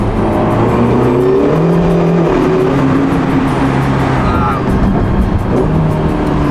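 A Ferrari California T engine drones loudly and continuously while driving, a dense, rising and falling roar heard from inside the car, steady for several seconds.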